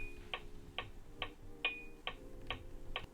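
Boss DB-90 Dr. Beat metronome clicking steadily, seven crisp evenly spaced ticks at a moderate tempo, close and clear over a faint low hum, with no voices.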